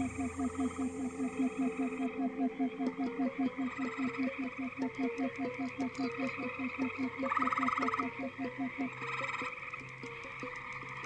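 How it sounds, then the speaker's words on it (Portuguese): Green frogs at a pond edge croak in a steady, rapid chorus of repeated calls, loud and close, with several males overlapping and a narrator's voice running over them. "Devem se unir de 15 a 20 machos em torno do lago, coachando e esperando desesperadamente que a fêmea atenda ao chamado."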